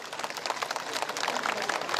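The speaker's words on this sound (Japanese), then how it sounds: "大きな拍手お願いいたします" Brisk, thick applause from a festival audience at the 2012 Iwatsuki doll town festival in Saitama, many hands clapping together in an even, continuous patter.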